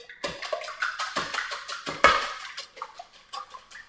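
Eggs are whisked fast in a deep bowl, a close run of quick rhythmic clinks and taps of whisk against bowl that repeat in short bursts without any talk.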